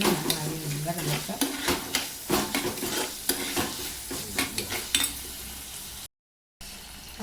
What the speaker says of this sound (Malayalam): നമുക്ക് നമ്മുടെ മുളകും നമ്മുടെ തക്കാളിയും കൂടി ഇട്ട് നല്ലോണം സൗന്ദിപ്പിക്കണം